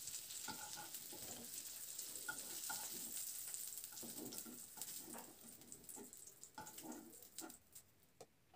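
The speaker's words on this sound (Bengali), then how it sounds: "এইরকম লালচে রং ধরে হওয়া পর্যন্ত কিন্তু ভেজে নিতে হবে" Small cauliflower florets fry in hot oil in a kadai with a faint, crackling sizzle, broken by intermittent clinks and scrapes of stirring that grow more frequent toward the end; no one speaks.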